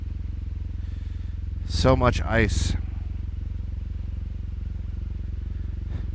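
Motorcycle engine idling while it warms up, a steady low rhythmic thrum running throughout; a person speaks briefly over it near the start.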